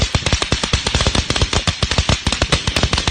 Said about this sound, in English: Here's some company decided it was a good idea to make fake firecrackers.